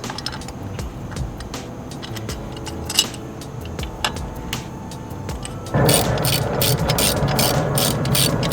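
A ratchet clicks in short bursts of rapid pawl ticks, close and fairly loud, tightening a belt tensioner bolt on a Subaru WRX, with a steadier buzzing mechanical noise toward the end.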